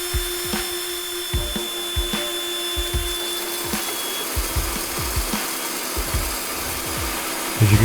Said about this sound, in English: the mill is just mowing through the grain here